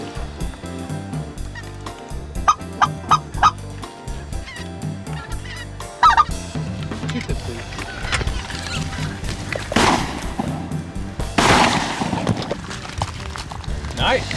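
Gunshots ring out during a duck hunt: two sharp, loud blasts a couple of seconds apart, each trailing off briefly, following honking duck and goose calls and outdoor background noise.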